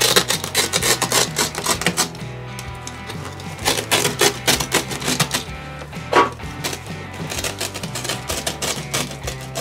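A razor blade tool cuts and rips through wall-to-wall carpet in a furnished room, giving a loud, continuous rasping and tearing texture with dense rapid scratchy pulses throughout.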